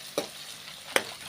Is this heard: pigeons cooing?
no